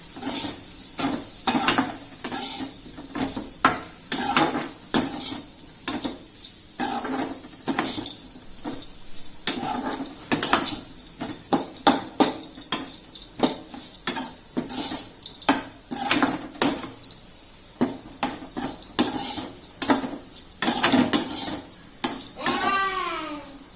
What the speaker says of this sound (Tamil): நல்லா காயோட கிளறி விடுங்க.